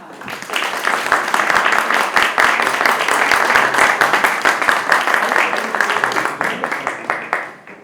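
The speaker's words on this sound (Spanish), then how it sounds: "les pido un aplauso" At a book presentation by an actress and singer, an audience breaks into loud, close applause of many distinct claps that builds quickly, holds steady for several seconds and then tapers off.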